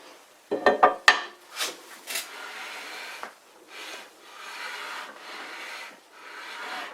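A hand scraper rasps across a cast iron lathe slide in a few sharp strokes, then softer, steady scraping passes follow at close range with no talking.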